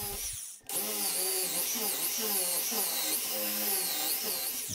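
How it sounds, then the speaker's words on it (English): After a short silence, a drill press spins up and whines steadily, its pitch wavering slightly as it bores into hardwood for a bench leg. "For the rear leg, I have used the drill press."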